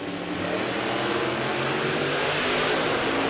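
Blown Outlaws drag racing cars launch at Warwick Dragway in Australia, a loud sustained supercharged engine roar building steadily over a few seconds, close and overwhelming.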